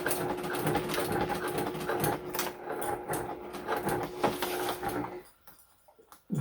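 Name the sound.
sewing machine stitching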